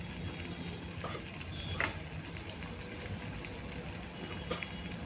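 Egg bhurji sizzles steadily in a hot pan, seasoned with salt and coriander, with soft scraping and clicks from stirring throughout, close and even, with no talk.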